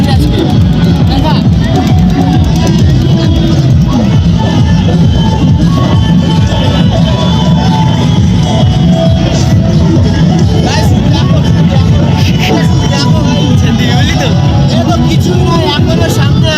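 A packed riverside picnic ghat during a fair, where a dense crowd keeps up a continuous babble of many voices mixed with passing vehicles and engines, loud and unbroken throughout.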